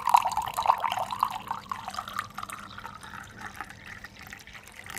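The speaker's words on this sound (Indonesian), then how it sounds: "kita tuangkan air" Water is poured into a glass and makes a close, bubbling, splashy trickle. It is loudest at the start and settles into a softer steady flow.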